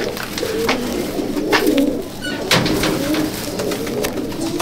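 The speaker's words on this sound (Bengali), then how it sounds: "এটা হচ্ছে আমার নাগের কলে আবলুক পায়রা, নাগের কল থেকে নিয়ে এসেছি আমি।" Abluk Madrasi pigeons coo close by in repeated low, rolling phrases, with a few scuffs and wing or handling noises between the calls and no talk.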